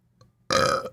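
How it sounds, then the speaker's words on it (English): One loud, abrupt burp bursts out close to the mic after a moment of near silence and lasts about half a second before cutting off. "I burped."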